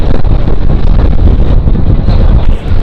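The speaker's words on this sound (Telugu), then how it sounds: "చూస్తున్నారు కదా, ఇదిగోండి ఫుల్ గాలి వస్తుంది, బయట మొబ్బట్టేసింది ఫుల్గా." Strong wind rushes past an open window of a moving passenger train bound for Guntur, a loud continuous roar and buffeting against the microphone with no speech.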